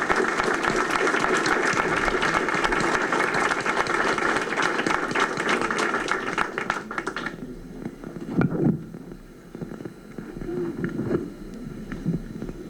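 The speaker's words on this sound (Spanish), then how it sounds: "Les pido un fuerte aplauso para Elena Poniatowska." A talk audience gives a strong, sustained round of applause for the author Elena Poniatowska, dense clapping lasting about seven seconds, then dying away into scattered claps, room noise and faint voices.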